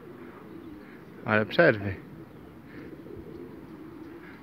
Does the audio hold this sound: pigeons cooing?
yes